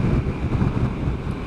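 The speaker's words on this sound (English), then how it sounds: "It's very, very windy today, so I hope you can hear this" Strong wind buffets the microphone while a motorcyclist rides along a windy seafront road, a loud, low, gusty rumble with a steady roar and no voices.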